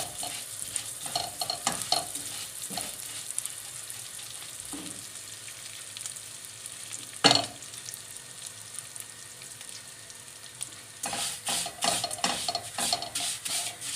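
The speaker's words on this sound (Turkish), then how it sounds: "Şimdi eritilmiş yağa bir çay bardağı tel şeriye ekleyeceğim şehriyemin rengi pembeleşene kadar kavuracağım" Thin vermicelli toasting in melted fat crackles with a soft, steady sizzle while a utensil scrapes and stirs the pan at intervals, with a sharp clink near the middle and busier stirring at the end.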